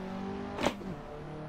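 Race car in the Assetto Corsa driving game blips its engine on a quick downshift, a short burst of roar over a steady whining engine drone that then pulls back into acceleration.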